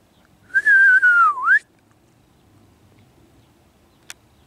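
A single clear whistled note, sliding gently downward then swooping back up, lasting about a second, followed by quiet and a faint click.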